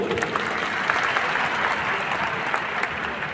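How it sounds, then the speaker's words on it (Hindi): A seminar crowd in Delhi gives sustained, loud applause, a thick even wash of many hands clapping with a few sharper claps standing out near the front. "एक शानदार ताली चाहते हैं उनके लिए"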